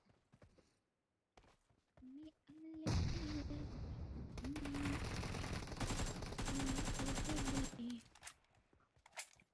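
Shotgun fire in the mobile battle royale game PUBG Mobile, played on an iPad M2: loud, dense bursts of gunfire and impact noise filling several seconds, with short gaps and voices talking over it.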